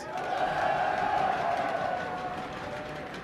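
Live crowd at a League of Legends esports match, Dignitas versus Team SoloMid at IPL4, cheering and roaring in a sustained, loud swell that peaks early and slowly fades, with a voice over a PA.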